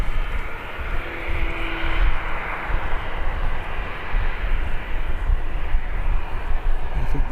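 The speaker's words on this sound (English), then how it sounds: "We do have Aer Lingus ATR on arrival." An Aer Lingus ATR turboprop arriving at Birmingham Airport on a calm evening, a steady broad engine roar held at moderate distance for the whole stretch with no voices over it.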